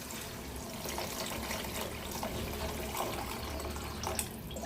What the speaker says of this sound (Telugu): ఇప్పుడు అది ములిగే వరకు వాటర్ వేసుకుంటాం